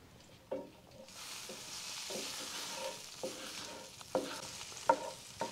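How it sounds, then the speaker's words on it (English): Pork jowls being stirred in a pot for pea soup, with a faint steady sizzle underneath and several distinct scraping, knocking stir strokes spaced a second or so apart, close by and quiet. "Just got to stir my pork jowls."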